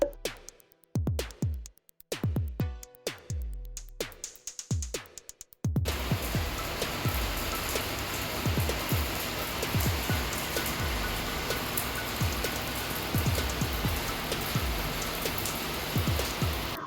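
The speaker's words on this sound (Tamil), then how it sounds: "அப்படியே மழை வர ஆரம்பிச்சிருச்சு." Rain starts outdoors at a home, first as scattered drops hitting a surface in irregular taps, then building into a steady, dense downpour with close, continuous patter.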